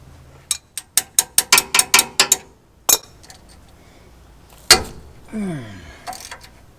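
A wrench cracks loose a hydraulic line fitting on a pump, a quick run of about a dozen sharp metallic ratchet clicks, then a few isolated clanks and a scraping slide.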